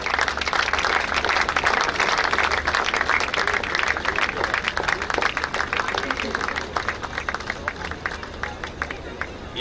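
Sustained applause from a large crowd at a badminton tournament prize distribution, dense steady clapping with a hum of voices underneath, continuing evenly for the whole stretch.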